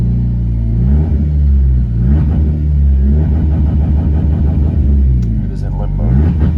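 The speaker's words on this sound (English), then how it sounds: "We're gonna give it some revs and see what it does." A Nissan car engine in limp mode rumbles loudly up close and is revved repeatedly, the pitch climbing and falling in waves with a continuous heavy drone.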